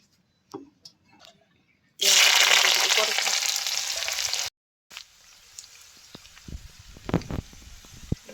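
Onions frying in oil in a pan, cooked alongside taro and lentils, give a loud steady sizzle for a couple of seconds. It breaks off abruptly and gives way to quieter crackles and scattered clinks.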